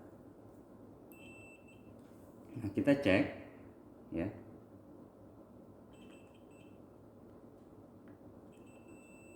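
A multimeter set to continuity buzzer mode gives a few short, thin electronic beeps while testing a three-phase motor's windings; someone talks over them throughout.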